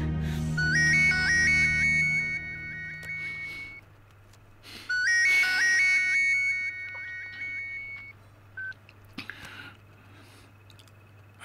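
A mobile phone ringtone plays a repeating electronic melody twice, with a pause between the bursts, fairly loud and alone, followed by a brief beep.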